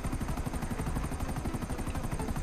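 A helicopter in the video game GTA, a loud close rotor chop pulsing steadily and evenly throughout, with no talk.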